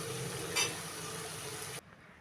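Ridge gourd pieces cook in oil for an egg curry, giving a steady broadband sizzle with a brief louder burst near the start. The sound cuts off abruptly before the end, leaving near silence.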